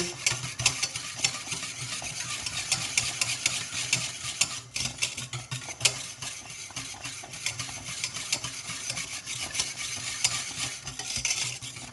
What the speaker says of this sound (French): On laisse quand même le temps à la semoule de cuire.